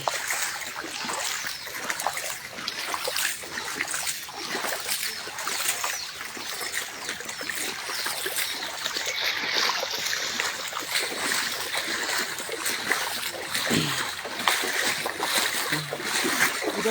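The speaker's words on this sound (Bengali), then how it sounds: "ওইখানে তো কোমর পর্যন্ত পানি, যতটুকু যেতে পারি আমরা যাবো" Splashing and sloshing of water as someone wades through waist-deep floodwater beside a rice mill in Dewanganj, Jamalpur; steady, dense watery churning continues throughout at close range, with no clear talk.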